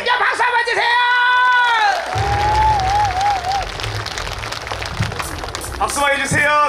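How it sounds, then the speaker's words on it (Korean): A concert audience at a KBS touring music show in Geumsan claps loudly and steadily, with whoops and cheers. Raised voices ring out over the applause near the start and again at the end. "자 여러분 진짜 박수 한번 주세요."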